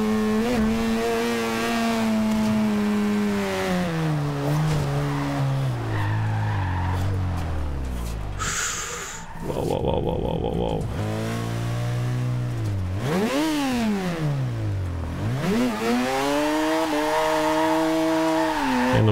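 A heavily modified car drifts in Forza Horizon 2, its engine droning and revving loud and close with sliding pitch sweeps, tire squeal and a brief drop near the middle, running almost continuously with no talk.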